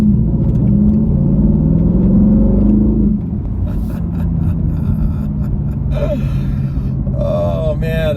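A 2025 Aston Martin Vantage V8 rumbles deeply while driving. The engine tone shifts partway through, and a brief voice comes in near the end.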